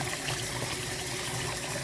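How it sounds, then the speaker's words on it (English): Basmati rice being washed in water, a continuous close sloshing and trickling of water that runs steadily throughout. "I'm going to wash this a few times until the water runs clear."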